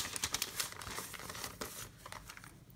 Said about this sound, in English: let's see what's in this gold foil bag.